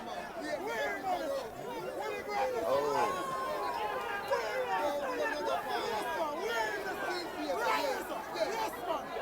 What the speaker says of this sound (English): The crowd sounds like they're sitting right here with us.